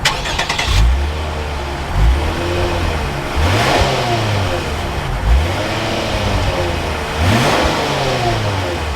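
A 2021 Lexus IS 350 F Sport starts up, its engine catching and revving in several loud, close surges that rise and fall before settling, with no talk over it.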